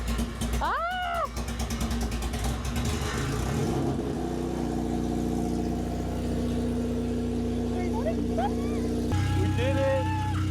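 A naturally aspirated Acura RSX idles just after starting, with a steady low rumble. A cat meows loudly near the start and again later, and people talk over the engine.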